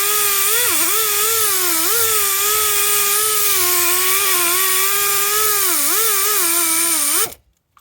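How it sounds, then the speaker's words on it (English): An air compressor running in a workshop during a 7.3 injector cup replacement, a loud sustained motor whine with wavering pitch that then cuts off abruptly. "Let the air compressor catch up, bring her back."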